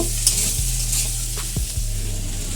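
Mixed vegetables are stir-fried for egg and prawn chowmein. A loud, steady sizzle sounds up close, with a few quick spatula scrapes against the pan.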